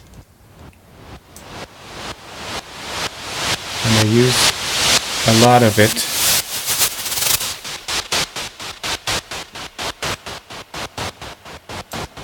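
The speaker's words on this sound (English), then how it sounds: "We start with our noise sweep here." A swelling noise sweep in Bitwig Studio pulses in rapid rhythmic bursts with heavy reverb, rising and falling, while a voice speaks briefly over it midway.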